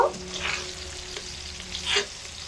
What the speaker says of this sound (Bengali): সিমগুলো দু মিনিট সময় ধরে ভাজা হয়ে গেছে